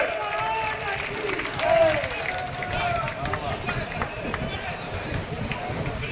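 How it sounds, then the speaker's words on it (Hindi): A crowd at a BJP political rally in Bhind claps and cheers in a sustained, somewhat distant wash of applause as a leader is called to the microphone, with voices and babble mixed in. "जोरदार तालियों से"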